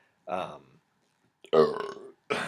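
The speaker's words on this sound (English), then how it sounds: "ending with a nice old burp." Two throaty, voiced bursts separated by a pause, then a third starting at the end; loud, close belching with a rough, drawn-out quality.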